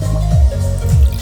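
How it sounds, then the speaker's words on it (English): Water pours from one glass into another as a close, low gurgling trickle with two soft glugging surges. "water goes from glass to glass easily"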